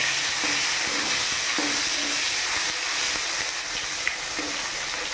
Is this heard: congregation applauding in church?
no